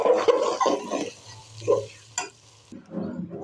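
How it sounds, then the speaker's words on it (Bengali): Rice stir-fries in a pan for chickpea pulao with a piece of dried plum, giving uneven bursts of scraping and rustling over a low sizzle, close and irregular. "এই যে আমার চাউলগুলো ভাজা হয়ে গিয়েছে।"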